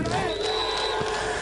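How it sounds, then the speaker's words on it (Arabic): A football crowd in a stadium chants and cheers loudly, a dense, sustained roar of many voices throughout the short moment. "الجماهير طبعا سامعين اصوات الجماهير"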